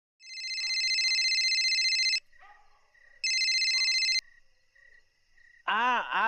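A telephone rings indoors in two clear, loud bursts separated by a short pause, with faint background sounds between them and a brief voice speaking at the end.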